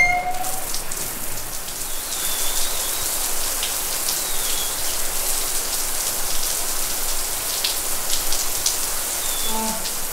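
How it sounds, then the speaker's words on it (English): A shower with a standard head, an 8-inch shower rose and a rain bar runs steadily, producing a dense, even hiss of falling water with faint squeaks of fittings near the end. "three separate shower heads, the standard head, the 8-inch shower rose, and the rain bar, all as easy as this"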